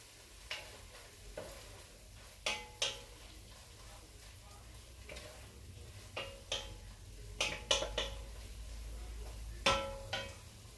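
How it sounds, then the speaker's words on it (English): A spoon stirs minced garlic and vegetables in a pan, with repeated close scraping clicks and taps at an uneven rhythm over a faint background sizzle. "So you want to just keep mixing this up, stirring it up to where so the veggies can get tender."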